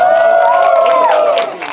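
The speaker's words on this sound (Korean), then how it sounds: "오늘 진짜 제일 수고해준 우리 DJ 친구한테 박수 부탁드립니다" A crowd at a Busan hip-hop party applauds and cheers for the DJ, a loud, dense wash of clapping and whoops with a ringing tone over it, fading slightly near the end.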